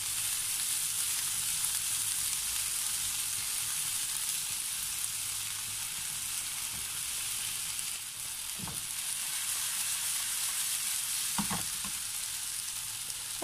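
Ginger and spring onion frying in a pan give a loud, steady sizzle that fills the whole stretch, with a couple of brief clinks from stirring near the end.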